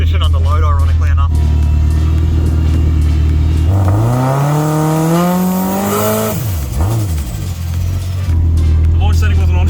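A Lexus IS200 launches and accelerates at Sydney Dragway, its engine note rising steeply in a loud climbing rev before easing off, with people talking around it.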